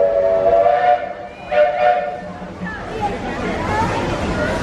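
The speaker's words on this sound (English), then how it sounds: "And there's the train." A theme park train sounds its steam-style whistle in several tonal blasts amid the babble of a crowd, with people talking close by.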